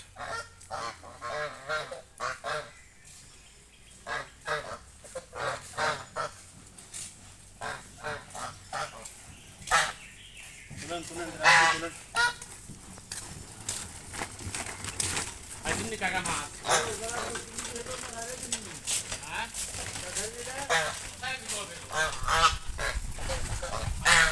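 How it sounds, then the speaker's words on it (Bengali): Domestic geese honk repeatedly in a noisy flock beside a village pond, calls overlapping in quick bursts throughout, with people talking nearby. "অনেক সুন্দর রাজহাঁস।"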